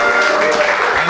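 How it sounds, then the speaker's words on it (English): Audience applause breaks out in a podcast studio, a brief dense burst of clapping with a voice running over it. "that's my applause"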